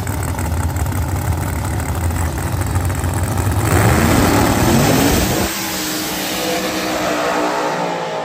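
Limited drag radial race cars at Milan Dragway rumble at a loud, rough idle, then one revs up sharply in a rising sweep before the engine note drops back to a lower idle, with a faint high whine overhead.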